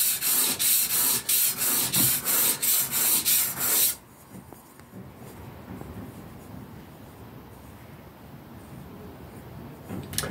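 A plane iron is rubbed back and forth across a sharpening stone, first as loud, rhythmic strokes, then as a quieter, steady scraping.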